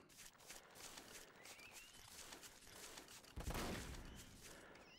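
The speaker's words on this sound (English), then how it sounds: "He's shooting at me" An enemy stalker fires at the player in STALKER: Shadow of Chernobyl with the NLC 7 mod, giving scattered distant shots and shuffling steps, then a heavier, louder burst of gunfire about two-thirds of the way through.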